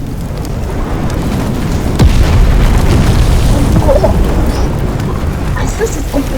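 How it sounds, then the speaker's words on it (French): Meteorite impact in the video game Teardown: a loud, sustained rumbling blast with crackling debris that rolls on for several seconds, with a voice briefly reacting over it. "Ah, ça, c'est complètement explosion, ça."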